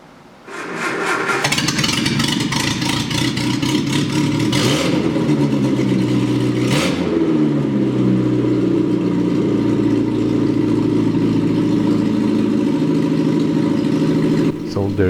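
A restored 1966 Triumph Spitfire MK2 with a new engine cranks and fires up, revs briefly, then settles into a loud, steady idle that runs on evenly until it cuts off near the end.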